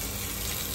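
A steady, hissing rush of spraying water from a hose as pigs at a cool-down station are sprayed down, loud and continuous with no pauses.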